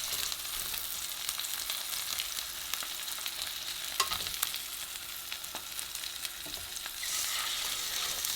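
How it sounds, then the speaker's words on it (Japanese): Mallard duck pieces sear in a pan over medium heat, giving a steady, close, dense sizzle with small pops and crackles throughout and no talking. "この時中火でじっくり表面を焼いていきます。"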